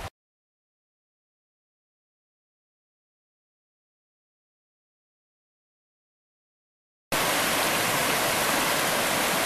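Canyon Creek, coming down from the Grouse Ridge area, rushes in a steady loud broadband roar that bursts in abruptly after a long stretch of silence.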